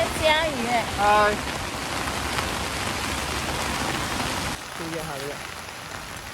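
Steady rain pours down at a hillside campsite on Suling Hill in Penang, a dense hiss that fills the whole stretch, with voices talking over it early on and again near the end.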